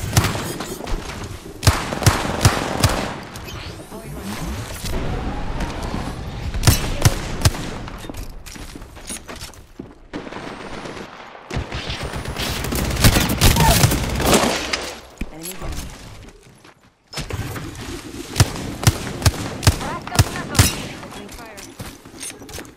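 Bursts of booming gunfire from the video game Apex Legends go off in rapid volleys with short pauses between, loud and close, mixed with other game sounds.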